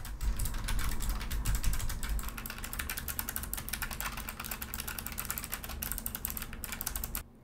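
Keyboard typing captured through a HyperX QuadCast microphone, a rapid, continuous stream of crisp key clicks with a low steady hum beneath, stopping abruptly near the end.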